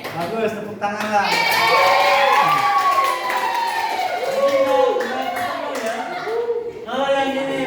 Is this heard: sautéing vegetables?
no